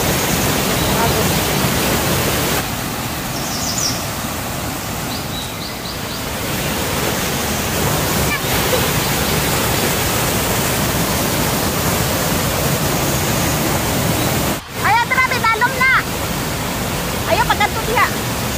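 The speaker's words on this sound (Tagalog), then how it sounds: "Malakas ang agos." Zabala Falls pours in a strong, steady roar of rushing water, a dense continuous wash close by, with a few faint voices briefly audible over it near the end.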